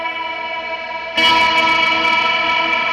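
Guitar through a Meris Mercury X reverb pedal set for a bright, high-end worship tone: a sustained shimmering wash that swells suddenly louder partway through, dense with effects and long decay.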